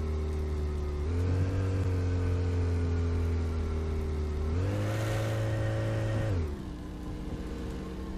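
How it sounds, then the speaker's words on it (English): A muscle car engine in a car dealership simulation game revs twice, each rev a smooth rising drone that holds then drops back to a steady idle, close and clear with no talk. "Boy, if it was supposed to be a muscle car, it don't sound all that impressive."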